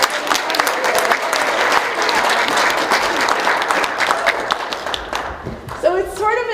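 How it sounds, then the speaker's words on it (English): A school board meeting audience gives the kids a big round of applause, with thick, even clapping filling the room for several seconds before it thins and a voice starts speaking. "One more big round of applause for these kids."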